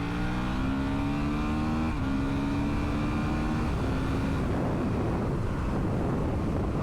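A Honda CRF450RL dirt bike with a swapped ECU pulls hard in third gear, its engine note climbing steadily under heavy wind rush across the microphone.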